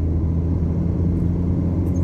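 A Kia Sportage towing a caravan travels at about 30 mph, a loud, steady low rumble of engine and road noise heard from inside the car with no talking.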